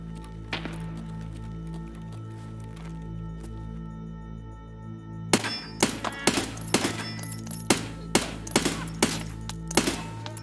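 Gunfire in the video game Escape from Tarkov: after a few seconds of steady background hum, a rapid, uneven string of about seven or eight sharp, loud shots rings out close by.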